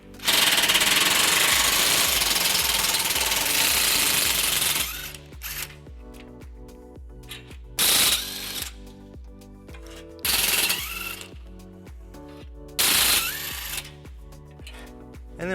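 A Fiat 500's bumper horn bracket bolts being loosened with a 14mm socket, starting with several seconds of loud, steady power-tool whirring, then shorter bursts of whirring separated by quiet pauses and light metallic handling.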